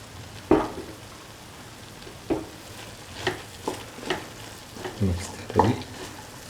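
Chickpeas and rice stirred in a cooking pan, with about eight distinct scraping strokes at irregular intervals over a soft sizzle, close and moderately loud.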